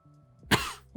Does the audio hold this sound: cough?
yes